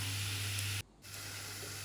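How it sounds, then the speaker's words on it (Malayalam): Ripe banana sautéed in ghee gives a steady, close frying sizzle that drops out for a brief moment partway through, then resumes at a similar level with no talking over it. "ഇത് വഴറ്റിക്കൊണ്ടിരിക്കുകയാണ്."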